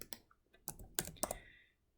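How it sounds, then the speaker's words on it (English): Quick clicks of a computer keyboard as a name is typed into a text box in Cricut Design Space on a PC, several close, distinct keystrokes in an irregular burst, then trailing off into quiet. "I'm just typing my name"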